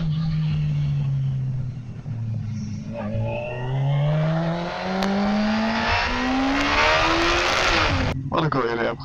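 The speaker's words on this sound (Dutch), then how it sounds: "Deze motor is inmiddels ook warm, dus we kunnen gewoon een lekker rondje gaan rijden." A warmed-up motorcycle with nearly 100,000 kilometres on it pulls away and accelerates, its engine note climbing through several gear changes as it moves off, loud and fairly close, with wind rushing over it.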